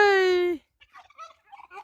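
A goose gives one loud, nasal honk that lasts about half a second, followed by faint, scattered voice sounds.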